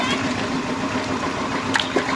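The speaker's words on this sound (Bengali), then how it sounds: "এই যে ছাড়া হচ্ছে পোনা" G3 rohu fingerlings, about 1100 fish averaging over 450 grams each, are released into a farm pond. A steady watery rush runs throughout, with a couple of small splashes near the end.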